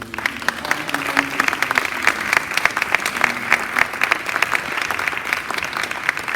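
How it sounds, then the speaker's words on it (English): An audience at a neighborhood association's city commission candidate forum claps continuously, a dense patter of many hands indoors with a faint voice briefly underneath. "give them all another round of applause"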